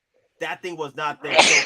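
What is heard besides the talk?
sneeze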